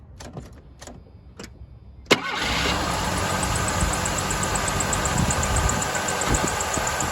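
A 1985 Ford Escort engine cranks and catches abruptly after a few quiet clicks, then settles into a steady cold idle, close and continuous.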